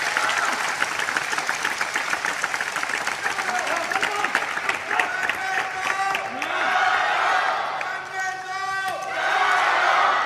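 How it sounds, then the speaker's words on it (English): Spectators at a table tennis semi-final between Fan Zhendong and Tomokazu Harimoto clap and shout in loud rhythmic bursts, a dense sustained wave of applause with commentators talking over it. "Crowd doing all it can to get behind him."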